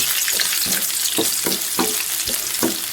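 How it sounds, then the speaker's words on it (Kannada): Chopped onions sizzle loudly in hot oil in a pan while being fried until brown for a simple chicken fry, with a steady hiss broken by regular stirring scrapes. "ಇದನ್ನು ಚೆನ್ನಾಗಿ ಬ್ರೌನ್ ಕಲರ್ ಬರೋವರೆಗೂ ಫ್ರೈ ಮಾಡ್ಕೊಳ್ಳಿ"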